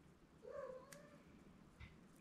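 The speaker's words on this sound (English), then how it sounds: "Oh, my cat wants to say hello," A house cat lets out a single clear meow, fairly quiet and close, followed by faint rustling in a calm room.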